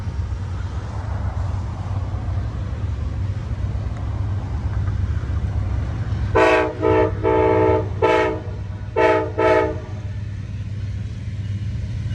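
A passenger train rumbles steadily nearby, with a series of loud horn blasts sounding in a rhythmic pattern partway through.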